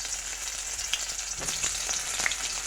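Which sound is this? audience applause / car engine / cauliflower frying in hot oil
cauliflower frying in hot oil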